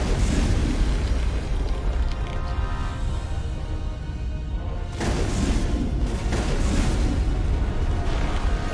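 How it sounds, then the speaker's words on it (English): Rocket fire and explosions in the Mass Effect video game, a heavy continuous roaring rumble of blasts that surges again midway, loud and dense with no talk over it. "Who's firing rockets?"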